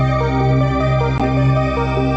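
Bright, synthetic retro game-style music with steady sustained tones and shifting notes, playing continuously at a fairly loud, even level.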